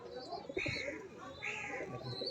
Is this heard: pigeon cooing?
yes